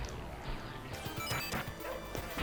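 A dog barks in a sword-fighting melee video game, sharp yips cutting through dense game effects and crashing hits across a busy stretch.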